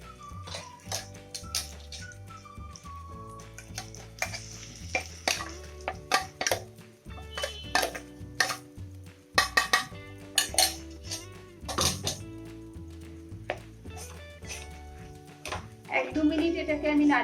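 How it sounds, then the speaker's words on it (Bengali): A spoon stirs spiced dal in a pan while preparing Bengali dal puri filling, with irregular metallic clanks and scrapes against the pan under a voice talking. "এক 2 মিনিট এটাকে আমি নাড়িয়ে নেব"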